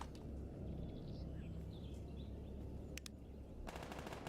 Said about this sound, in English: gunfire from over there